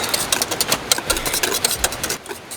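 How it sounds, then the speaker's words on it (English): Electric mixer whirring and rattling as it whisks caramelized whipping cream outdoors at a wilderness camp, a steady buzzing drone with fluttering beats, close and alone. "So while I whisk my caramelized whipping cream"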